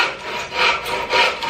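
Hand saw cutting through a wooden workpiece in a beginner woodworking project, with two or three slow rasping strokes close to the microphone and no talk.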